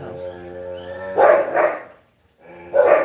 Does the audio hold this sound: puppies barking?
yes